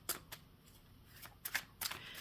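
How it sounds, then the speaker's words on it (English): Tarot cards riffle and slap together in several quick, crisp bursts, close up and fairly quiet, with short pauses between shuffles. "I felt I had to do one more shuffle there."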